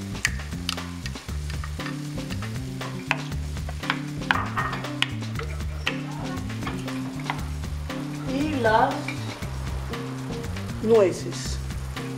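Chicken with cream and walnuts fries in a pan, a constant sizzle with stirring scrapes and clinks throughout, while a voice talks over the cooking.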